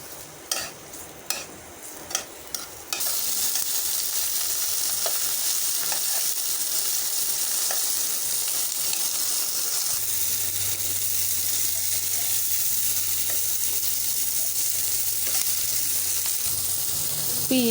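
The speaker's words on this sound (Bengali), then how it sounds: "দিয়ে দিচ্ছি পেঁয়াজ, দিয়ে দিচ্ছি শুকনো মরিচ। এখন আমি এগুলো সবগুলো ভালো করে ভেজে নেব।" Onion, dried red chili and tomato fry in a pan with a steady, loud sizzle and hiss, after a few sharp clinks of a spatula at the start; no one speaks.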